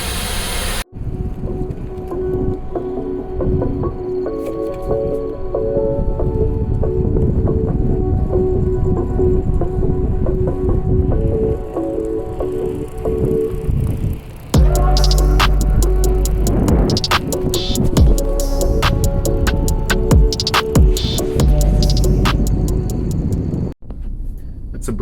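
Lunyee 3018 Pro Ultra desktop CNC router milling aluminum, a continuous harsh whine of the spindle and cutter with shifting tones and a brief change midway, loud and close throughout.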